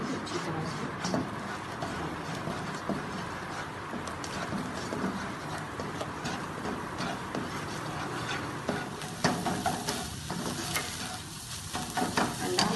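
Egg frying in oil in a pan over medium flame while being stirred, a continuous crackling sizzle with scraping taps from the utensil throughout.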